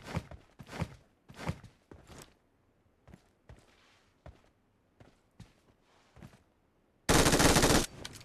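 Scattered single gunshots from a game ring out at irregular intervals, ending with a loud, sustained burst of rapid automatic fire.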